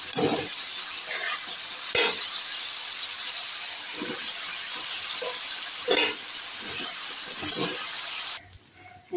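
Fish slide into a wok of hot oil with a little water and potatoes for a Bengali fish curry, giving a steady loud sizzle and bubbling hiss with intermittent sharper crackles and stirring knocks, ending abruptly in near-quiet.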